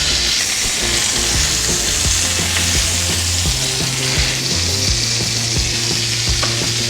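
Walter's hot dogs pressed down and cooking in a hot pan, a loud, close, continuous sizzle and crackle with a low steady hum underneath and occasional soft clicks, no speech.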